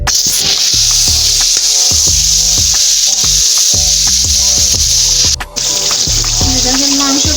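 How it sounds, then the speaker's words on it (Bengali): Duck meat sizzles loudly in hot spiced oil, a constant bright hiss broken by repeated scraping and clanking stirs of a utensil against the pan, close up. "এখন এই যে মাংসটা দেওয়া হচ্ছে, এই যে মাংস।"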